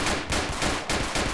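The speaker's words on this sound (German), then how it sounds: "Schüsse, ich höre Schüsse." Rapid gunfire in the police video game Notruf Hamburg, with dense, sustained bursts of shots running loud and continuous through the moment, with no voices.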